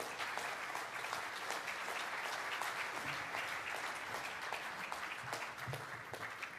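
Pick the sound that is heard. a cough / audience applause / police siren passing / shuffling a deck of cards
audience applause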